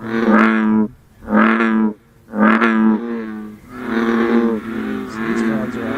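Male bullfrogs call in a chorus, giving deep, resonant, drawn-out calls that come in separate bursts with short gaps, close and loud.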